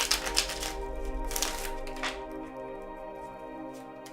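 Tarot cards being shuffled by hand, with soft riffling slaps and flicks in short bursts for the first couple of seconds, then fading into a quieter rustle.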